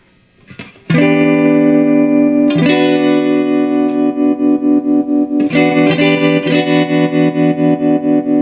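Distorted electric guitar chords ring out through a 1966 Fender Deluxe Reverb amp, then a sustained chord pulses with a fast, even wavering vibrato throughout.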